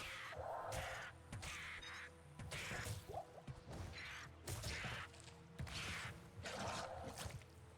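Harsh cawing bursts of crows repeat in a steady rhythm against clattering combat thwacks and swooshes in the Diablo 2 Resurrected game, loud and close with no talk.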